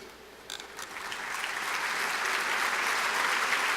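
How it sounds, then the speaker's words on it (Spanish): An audience applauds to welcome officials onstage at a panel on reducing insecurity. The clapping starts sparse with a few distinct claps, then builds into a full, steady round that keeps growing to the end. "Pido un aplauso"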